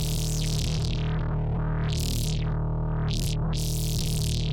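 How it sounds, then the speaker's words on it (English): A heavy neuro bass synth, run through OTT compression and distortion, holds a low note while its filtered upper tones sweep open and shut in bright bursts. "That gets thrown into the OTT with distortion."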